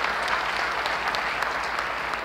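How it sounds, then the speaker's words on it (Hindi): Steady, dense applause from a seminar audience at a talk by a special advisor to the Prime Minister, loud and continuous throughout with no voices over it. "ताली बजाओ यार जोर से"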